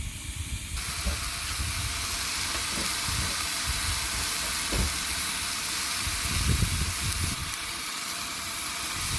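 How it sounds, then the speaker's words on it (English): Mushrooms and onions sizzle in a little olive oil while cooking outdoors. A steady, loud frying hiss is broken by occasional stirring scrapes and knocks. "Ooh, listen to that sizzle."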